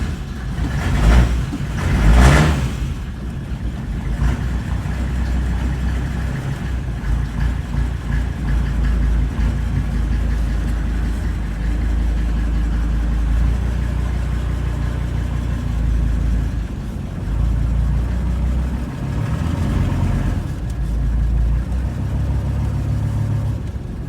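A 5-cylinder diesel in a Dodge Ramcharger catches right after glowing and settles into a steady, low, gruff idle, with a louder clattery start at the beginning and a brief rise near twenty seconds, close and alone.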